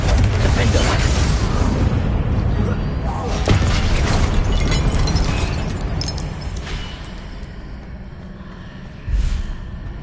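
A Confringo blasting spell goes off in Hogwarts Legacy, making a loud, rumbling explosion that swells and then slowly fades, with a second lighter burst near the end and a voice briefly audible.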